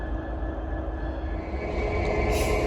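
A train pulls out of Crewe station on the West Coast Main Line, bound for London Euston, its steady rumble and wheel noise close by and building slightly, with a brighter hiss rising near the end; no one talks.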